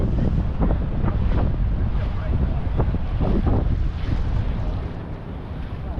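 Steady, blustery wind off the water in Brooklyn buffets the microphone at the shoreline, with low rumbling gusts and faint wave wash throughout.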